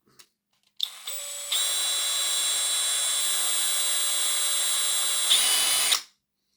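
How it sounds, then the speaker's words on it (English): A small electric drill whirring into a metal weight for a Hornby 0-4-0 tank model locomotive, spinning up in two steps, then a steady high whine for about four seconds before cutting off. "drill two smaller holes either side of this weight for the wires"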